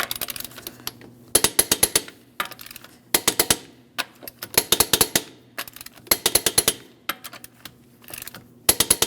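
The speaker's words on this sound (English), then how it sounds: "Let's torque our lug nuts in a crisscross manner to 140 foot-pounds" Torque wrench tightening lug nuts on a 2005-2010 Chrysler 300 front wheel, close rapid ratcheting clicks in repeated bursts separated by short pauses as each nut is turned.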